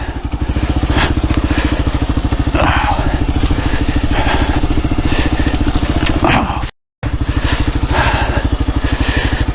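A Kawasaki KLR 650 single-cylinder motorcycle engine thumps loudly and steadily up close, its rapid pulsing rhythm broken by one brief dropout.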